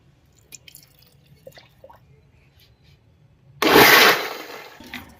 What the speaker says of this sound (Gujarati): આપણે હજી થોડું પાણી નાખી દઈએ